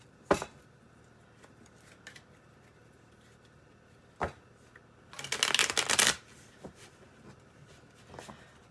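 A deck of tarot cards shuffled by hand, a few soft single taps and then a brisk riffling burst of about a second, close and quiet, with no talk.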